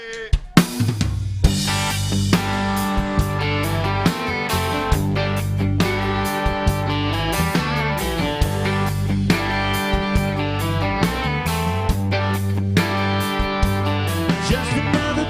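A live country band in a bar plays a 1994 song, with drums, bass and guitars going loud and continuous throughout and nobody speaking.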